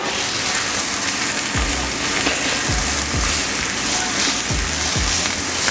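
Red onion frying in olive oil gives a steady, loud sizzle with a few low thumps mixed in.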